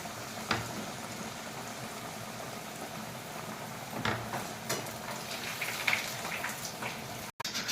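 Cooked dal with tomato simmers in a pot, a soft continuous bubbling with occasional louder plops and a couple of sharp knocks, faint and close, without speech.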